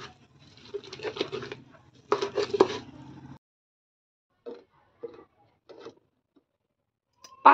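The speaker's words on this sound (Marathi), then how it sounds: "मी ग्लासने अशा त्या रगडून घेतल्यात" Cluster beans and garlic cloves are pounded and crushed with a glass, giving bursts of gritty rubbing and pressing, then several short separate knocks after a pause, close and alone.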